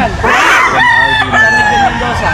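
A Sweater Gilmore stag rooster crows loudly and close in a repeated, drawn-out call, with someone speaking briefly at the start.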